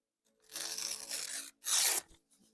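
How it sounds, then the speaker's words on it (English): Paper torn by hand in two close strokes: a longer rip of about a second, then a short, louder one, with no talk. "Tear it like that."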